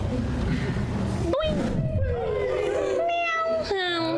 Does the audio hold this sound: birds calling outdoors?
no